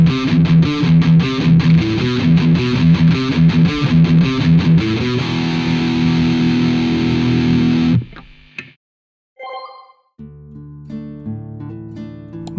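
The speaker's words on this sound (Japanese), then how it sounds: "ディストーションのストンプエフェクトを足してみました" Distorted electric guitar running through the Ampire amp simulator with a distortion stomp effect, thick chords played for about eight seconds before a sudden stop, then sparse ringing notes and a softer, cleaner passage.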